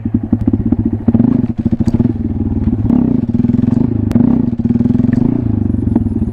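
A Honda Grom motorcycle engine during wheelie practice, loud and close, revving in repeated surges with throttle blips, brief drops and rattly clatter, no speech over it.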